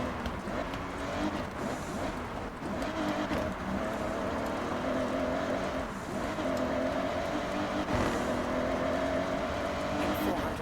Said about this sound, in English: It's a twin turbo powered engine made by BMW.